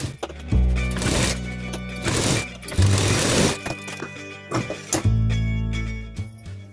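A sewing machine stitches old T-shirt fabric into warm socks. Its close, irregular mechanical whir runs in short bursts with pauses between them, and nobody speaks.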